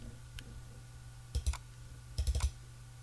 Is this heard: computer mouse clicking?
yes